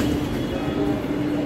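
A Lucknow Metro train at Munshipulia station gives off a steady, close, loud low rumble and hum that runs unbroken through the moment, with no talk over it.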